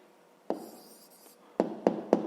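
A pen scratches out a short written answer in a maths exercise, a brief stroke followed by three quick, distinct marks close by.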